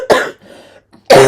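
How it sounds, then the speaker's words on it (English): Coughing, or a throat-clearing snort, from someone at an informal tabletop role-playing session: a loud, harsh burst at the start, a quieter murmur in between, then another strong burst at the end, with no speech. "The only thing I hear is like either coughing or snorting."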